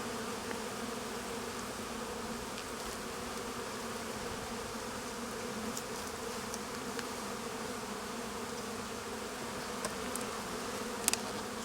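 Honey bees buzz steadily around an open beehive whose comb is still being drawn out, a dense close-up drone that stays even throughout, with a few faint clicks near the end.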